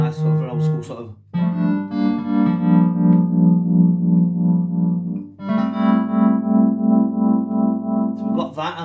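A reed piano patch on a Korg MS2000 synthesizer plays two long sustained chords, buzzy and electric with a slight distorted edge, loud and close with short gaps between them.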